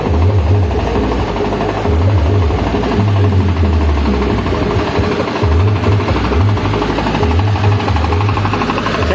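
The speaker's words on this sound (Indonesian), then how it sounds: "Kita lihat gensetnya dulu" A radiator-cooled diesel generator set runs loud and close with a hard, knocking, jackhammer-like chatter and a heavy low throb that pulses at regular intervals.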